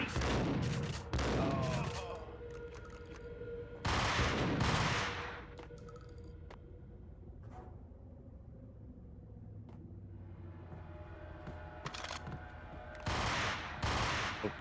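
Enemy Ingram submachine guns in the 2001 PC game Max Payne fire loud bursts of automatic gunfire that start and stop several times, with rumbling noise between the bursts.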